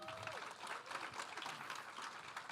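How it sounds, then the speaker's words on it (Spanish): A church congregation gives a short, lively round of applause, dense overlapping clapping with a brief whistle-like tone at the start, holding steady throughout. "Un aplauso para todos, por favor."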